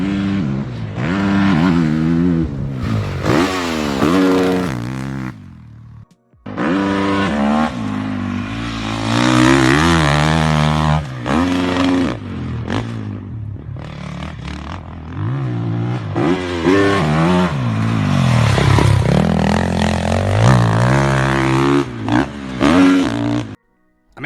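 Tim Gajser riding his motocross bike, the engine loud and near, revving hard in repeated rising and falling bursts with shifts and brief drops, nearly continuous for about twenty seconds.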